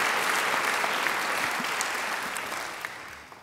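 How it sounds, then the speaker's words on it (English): Sustained applause from a graduation ceremony audience, a dense steady wash of many hands clapping that slowly tapers off toward the end. "I think she deserves another great round of applause"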